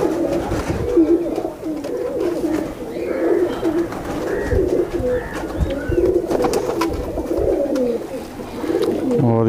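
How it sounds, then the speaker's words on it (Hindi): High flyer pigeons coo continuously on a rooftop, a dense layered chorus of soft rolling coos from several birds close by, with faint background noise throughout. "ये इनके छतरी वाले हैं सारे कबूतर"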